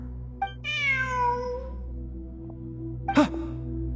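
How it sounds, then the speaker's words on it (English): A cat meows once in Genshin Impact during a ruins exploration quest in Sumeru: a clear, close, rising-then-falling meow, followed a second later by a short sharp sniff or sneeze-like burst against a low ambient hum. "Look! A cat!"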